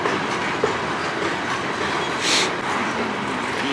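A freight train rolls past at close range in Sarnia, Ontario, a loud, continuous roar of wheels and cars with rhythmic clatter and a brief squeal partway through, with no talking.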